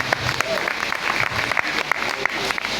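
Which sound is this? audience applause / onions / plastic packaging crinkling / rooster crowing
audience applause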